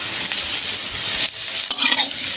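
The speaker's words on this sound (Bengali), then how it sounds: "একটু নুন দিয়ে দেবো, দিয়ে একটু নেড়ে আবার চাপা দিয়ে দেবো।" Taro for a mustard curry fries in a pan with a loud continuous sizzle, broken by short scraping stirs of a spoon.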